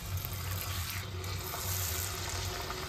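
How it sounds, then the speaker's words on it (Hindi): Aloo kachori frying in hot mustard oil in a kadhai, giving a steady, even sizzle and bubbling hiss that holds at an unchanging level throughout, with no talking. "और अब हम इसको फ्राई करने के लिए कढ़ाई में डाल देंगे।"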